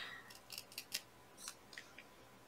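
Scissors snipping through stained glass pattern pieces in a series of crisp, close cuts, some quick and closely spaced, others spread out with short pauses between them.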